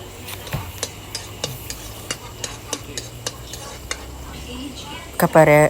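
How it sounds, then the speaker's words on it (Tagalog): Garlic in oil is handled in a home kitchen pan, heard as a soft background sizzle under regular taps and scrapes of a spatula roughly every half second, ending with a brief louder clatter. "Magigisa tayo ng bawang sa oil."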